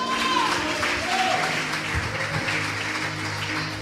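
A church congregation applauds during a worship service, steady dense clapping filling the room with tonal music or singing running underneath.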